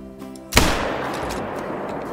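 A single loud rifle shot at an animal in a hunting video game: one sharp crack that trails off into a rolling, decaying rumble, with no voices present.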